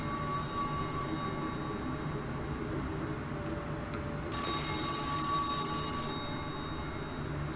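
A bat phone's electric bell rings in long bursts, a steady high trill starting partway through and running for a couple of seconds over a low background hum, with no one speaking.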